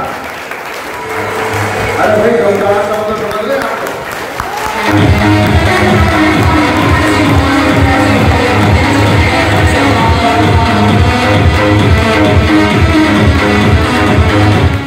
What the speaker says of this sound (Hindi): मैं एक बार चाहूंगा इनके लिए अब तक की सबसे दमदार ताली बजी है।